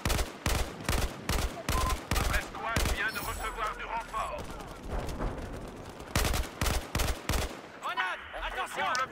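Assault rifle fire in Battlefield 4 on Naval Strike cracks out in repeated rapid bursts, loud and close, with a sharp rhythmic staccato and brief pauses between volleys.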